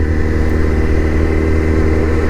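A Kawasaki Z1000 motorcycle engine runs steadily at close range on a wet day, a loud, even low rumble holding without pause and with no voices.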